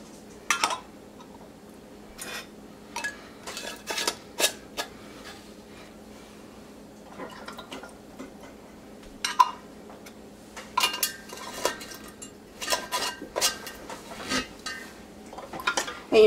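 Warm glass canning jars and their metal rings being handled for home-canned milk, giving scattered light clinks and taps in short clusters with quiet gaps between, close by.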